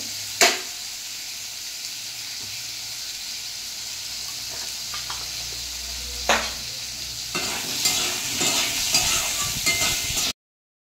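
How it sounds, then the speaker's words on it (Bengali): Mango pieces sizzle steadily in a hot pan, with a few sharp scrapes of a spatula stirring and a louder crackling burst near the end. "এবারে আমগুলো আমি ভেজে নেব।"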